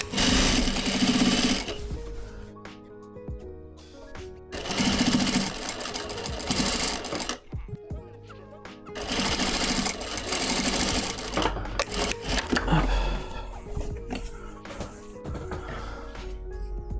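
A sewing machine topstitches a Burda 7142 coat in several loud bursts of rapid stitching, separated by brief pauses, close to the microphone.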